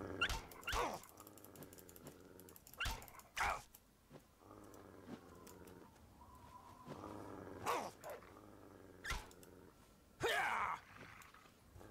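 A dog in the video game Fallout 3 growls and snarls in repeated harsh bursts over a low game soundtrack, fairly faint and alone without talk.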